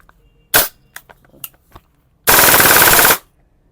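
A WE SR25 gas blowback airsoft rifle fires on full auto, with a few single sharp pops and clicks and then a loud, rapid burst of under a second, close and outdoors.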